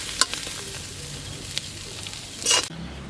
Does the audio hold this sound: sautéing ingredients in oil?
yes